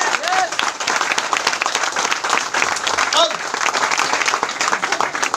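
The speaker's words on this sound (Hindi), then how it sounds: "यस तालियां तो बनता है" Audience at a leadership training session gives loud, continuous applause, dense overlapping clapping close by with brief voices rising through it.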